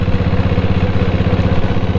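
A Royal Enfield Bullet with a diesel engine idling close by, a loud, steady low thumping beat with even rhythmic pulses and mechanical clatter.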